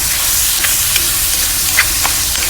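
Ground pork stir-frying in a pan until golden brown, a steady close sizzle with a few scraping stirs of the spatula, no talking.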